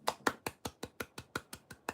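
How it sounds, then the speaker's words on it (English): Ten sharp, evenly spaced hand claps ring out in a steady, slightly quickening rhythm, close and fairly quiet, with nothing else around them. "Clap hands."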